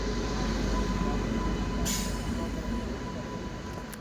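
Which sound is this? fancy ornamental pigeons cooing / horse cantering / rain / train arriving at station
train arriving at station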